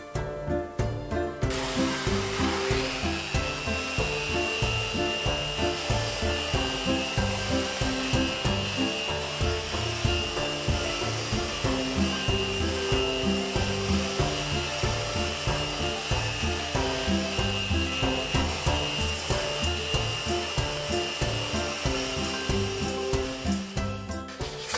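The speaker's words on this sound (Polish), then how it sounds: "Teraz przeszlifuję nieco Rotexem te płyciny, bo później będzie to znacznie trudniej zrobić." A Rotex orbital sander works over the wooden panel inserts of a kitchen cabinet door, giving a steady, loud, close-up whir with a pulsing rhythm that runs unbroken for the whole stretch, with no talking.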